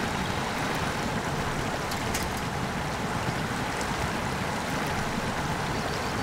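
A truck fords river water in the SnowRunner video game, with a steady, dense roar of rushing water and engine churn running without a break.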